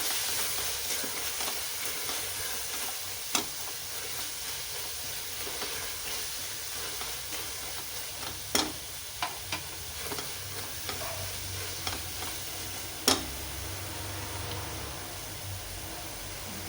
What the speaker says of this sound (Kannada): ಪೌಡ್ರುಗಳು ಹಾಕ್ದಾಗ ಸ್ವಲ್ಪ ಚೆನ್ನಾಗಿ ಫ್ರೈ ಆಗಬೇಕು